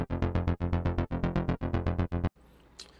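A deep bass track plays alone in Logic Pro 11, short rhythmic plucked notes, steady and punchy, then stops abruptly into near silence.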